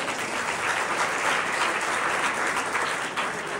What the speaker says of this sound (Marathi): सरांसाठी प्लीज एकदा टाळ्या वाजवा.